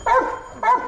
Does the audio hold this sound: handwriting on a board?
no